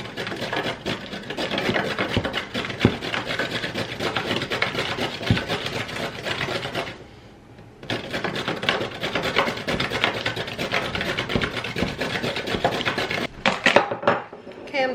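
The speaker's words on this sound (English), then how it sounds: "and chop up some cabbage." Cabbage being chopped for slaw produces rapid, continuous knife taps against a board. The chopping is close and fairly loud, pauses briefly midway, then resumes.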